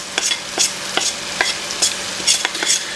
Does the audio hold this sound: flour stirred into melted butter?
yes